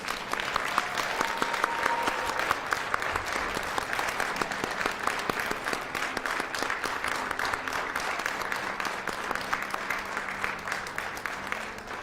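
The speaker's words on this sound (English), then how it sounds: "And can we please give them a round of applause?" Steady applause fills a hall for nursing graduates at a 2021 pinning ceremony in Fergus Falls, a sustained crowd of clapping hands holding at an even level for several seconds.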